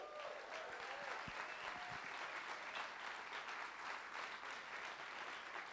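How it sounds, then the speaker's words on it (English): Audience applause for a community prize at a live event, a dense, even wash of many hands clapping throughout, heard at a low level. "Let's hear a round of applause for that."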